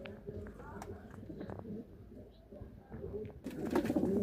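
Yellow pigeons in a breeding loft give soft, low cooing and rustling, close by, with someone talking over them throughout.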